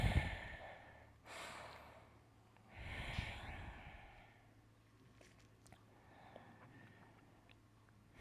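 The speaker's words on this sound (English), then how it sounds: "Find the slow and steady rhythm of your Ujjayi breath" Slow, audible Ujjayi breathing during a yoga forward-bend sequence: long, airy inhales and exhales with a soft throaty hiss, close and quiet, with no talking.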